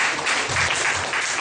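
A church congregation claps together in a dense, sustained burst of applause that fills the space evenly, with no voices standing out above it.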